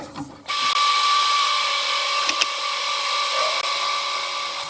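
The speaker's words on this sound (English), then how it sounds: "first thing I'm going to do is I'm going to drill a hole" A power drill whines at a steady high pitch after a brief click, running continuously with a couple of small knocks as it bores a hole into wood.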